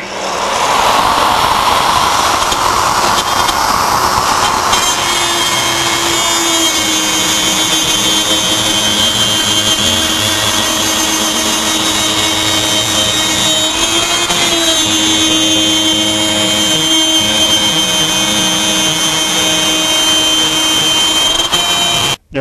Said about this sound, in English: I'll start the router, plunge it through the material